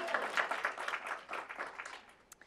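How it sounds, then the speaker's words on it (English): Light, faint applause from an audience at an equity panel discussion, a short scattered patter of clapping that fades out within a couple of seconds. "let's clap for her"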